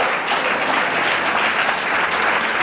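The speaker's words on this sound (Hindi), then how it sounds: "जोर से प्रभु के लिए ताली बजाएंगे" Sustained applause from a church congregation at a Good Friday service, dense steady clapping that fills the space evenly with no voices over it.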